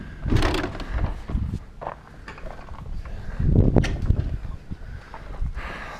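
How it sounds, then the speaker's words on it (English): Rear doors of a step van swinging open and shut, with a few close mechanical clunks and latch rattles spread unevenly over several seconds, no talk. "These doors open and close real nice."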